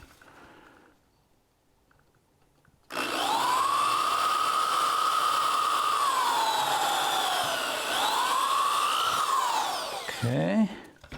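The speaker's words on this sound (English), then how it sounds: "so let's drill this." A power drill bores into a urethane resin sculpture, whining loudly and steadily for about seven seconds with a dip in pitch as it bites, then winding down, after a quiet lead-in.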